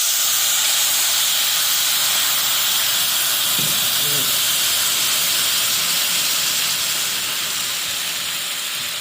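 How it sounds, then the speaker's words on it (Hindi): Sugar syrup poured slowly into golden roasted semolina for halwa, a steady loud steamy hiss and sizzle filling the whole stretch, with a brief softer bubbling burst midway and no talk. "अब हम इसमें इसका शरबत शामिल करेंगे, आराम आराम से डालेंगे।"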